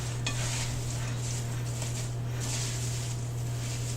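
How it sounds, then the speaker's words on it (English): A spatula stirs apple pieces with sugar for apple pie filling, soft scraping and patter over a constant low electrical hum, continuous and fairly faint. "Spread the sugar loaf around all the apples with the spatula or your hands"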